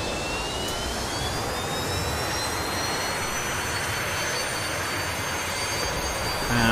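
An A-4E Skyhawk jet engine at full power on a carrier catapult in a flight simulator game, a loud, steady roar with a thin rising whine held throughout and swelling slightly at the end.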